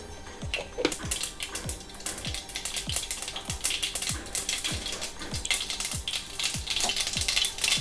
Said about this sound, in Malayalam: നമുക്കിതിലേക്ക് കുറച്ച് കടുക് ഇട്ട് കൊടുക്കാം